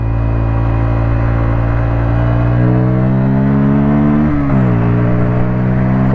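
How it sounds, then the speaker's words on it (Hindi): A Yamaha MT15 motorcycle engine held at full throttle on a highway, a loud, steady droning whine that rises in pitch, dips briefly, then climbs again, with no talk. "फुल थ्रॉटल खींच के ले जाना पड़ रही है मुझे"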